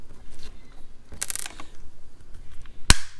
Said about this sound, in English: Snap, click, a little screw.